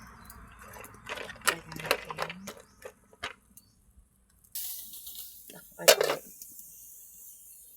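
A metal pot lid clinks and scrapes as it is set back onto a cooking pot after vegetables go in, preceded by small clattering knocks, with a hissing burst and quiet voice nearby.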